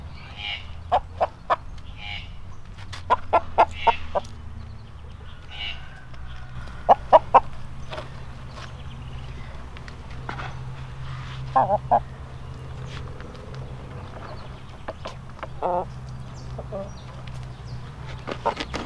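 A giant Indian rooster (galo índio gigante) makes repeated short clucks in bursts across a farmyard, fairly close, over a low steady background hum.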